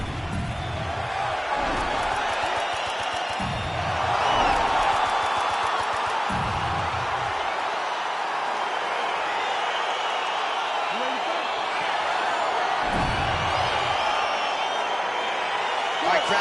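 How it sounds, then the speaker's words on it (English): A video game arena crowd in UFC 4 roars and cheers as a featherweight fight begins, a steady, broad wash of excited noise with a louder swell partway through, with commentary spoken over it. "Crowd getting excited as this fight gets underway"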